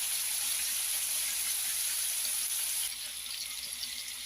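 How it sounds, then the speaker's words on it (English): Pepper steak and vegetables sauté in a pan with a steady, close sizzle and a faint high whine; the frying briefly drops in intensity partway through, and no one talks. "I'm just going to let this saute for about another 30 seconds, and it should be ready."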